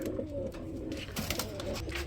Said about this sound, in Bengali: এক জোড়া বিউটি হুমা কবুতর দেখাবো, খুব সুন্দর শেপের মধ্যে দেখতে পাচ্ছেন